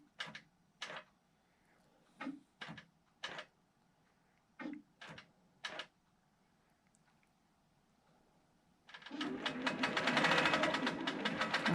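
A computerized quilting sewing machine stitching a border makes several short mechanical whirs and clunks, then settles into a continuous, rapid, rhythmic stitching chatter that carries on loudly to the end.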